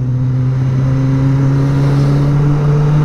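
A Kawasaki ZX-25R motorcycle's high-revving engine holds a steady, loud, tonal whine close by during a test drive, with no talk.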